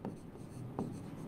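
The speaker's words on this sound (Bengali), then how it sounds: "তা আমরা এবার একটু লিখবো" A pen or chalk scratches out notes during a chemistry lesson, faint short strokes with a slightly stronger stroke near the middle, against a quiet room background.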